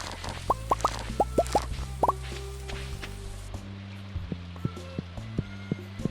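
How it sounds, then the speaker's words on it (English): A Stardew Valley blueberry harvest effect: a quick series of soft, bubbly plops rising in pitch, then a calmer run of light popping blips over faint music. "And another blueberry harvest is ready too. I love the sound that makes."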